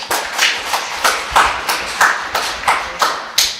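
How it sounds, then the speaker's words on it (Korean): A small audience at a poetry reading claps slowly in unison, about ten distinct, evenly spaced claps, close and fairly loud. "박수 한번."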